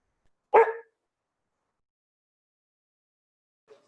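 A single short dog bark rings out loud and close in an otherwise silent room, followed near the end by a faint second yip.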